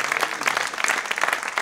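A church congregation claps for Jesus during a worship service, a dense, steady burst of applause that stays at an even level throughout.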